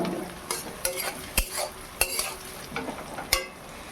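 Dry red chillies sizzle in hot oil while a spoon or spatula stirs and scrapes the pan, soft steady frying under irregular metallic clinks and knocks, close by with no talking.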